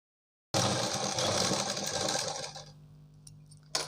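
An electric sewing machine stitches the fabric of a circular palazzo with lining in a steady fast whirring run of close needle strokes, then slows and winds down near the end, with no talking.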